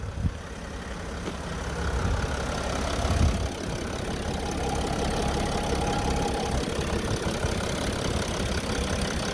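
A 2020 Mercedes-Benz Sprinter 2500 all-wheel-drive conversion van idles steadily nearby, a constant mid-pitched engine drone with a faint knocking texture that holds at an even level throughout.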